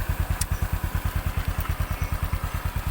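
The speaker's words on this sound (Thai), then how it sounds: "ฟังเสียงท่อนะฮะ" A 2021 Honda Wave110i motorcycle exhaust idles up close with a fast, steady, lumpy pulse, loud and even throughout, with no talking.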